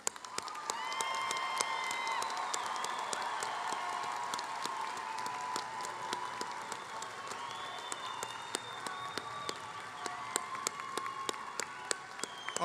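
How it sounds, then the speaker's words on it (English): Sustained audience applause at a university commencement ceremony for business and accounting graduates, a dense and steady roll of many hands clapping throughout, with faint whistles or cheers rising over it. "let's give him one more round of applause"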